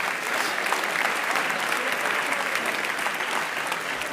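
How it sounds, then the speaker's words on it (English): Steady applause from an audience welcoming volunteers to a stage, a dense wash of clapping that stays even and loud throughout without any talking. "let's give these volunteers a nice round of applause"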